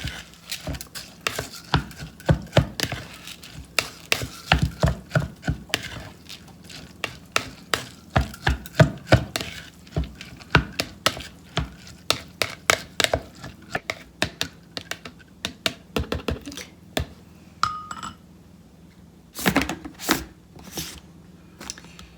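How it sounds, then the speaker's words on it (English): Rice koji mixture is stirred for amazake, producing a steady run of close, sharp clacks and scrapes of a utensil against a bowl, irregular in rhythm and continuing for over twenty seconds. "add rice koji mixture here. And again, mix very well."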